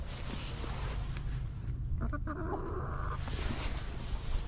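Chickens in a chicken run bedded with deep wood chip mulch give off faint, scattered clucks over a constant low rumble, with one clearer short run of calls partway through.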